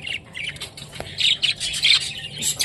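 Spangle rainbow budgerigars squawk and chatter in rapid, overlapping high chirps, close and fairly loud, with a brief tap midway and no voices.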